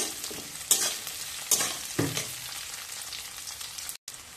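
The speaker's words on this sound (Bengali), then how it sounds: "কাঁচা লঙ্কা দিয়ে প্রথমে আলুটা একটু দিয়ে ভেজে নেব।" Potatoes fry with green chillies and softened onions in a pan, giving a close, steady sizzle broken by a few sharp stirring scrapes and clatters.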